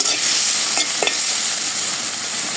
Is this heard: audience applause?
no